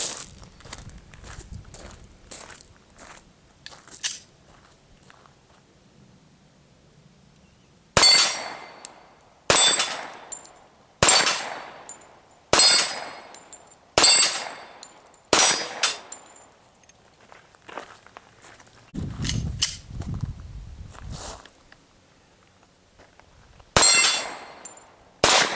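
An H&K USP .45 pistol fires a run of sharp, loud shots at uneven spacing outdoors, interspersed with quieter handling clicks and rustling, with no voices.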